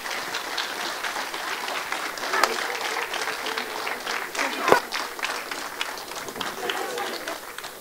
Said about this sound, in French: Allez, on les appelle en les applaudissant.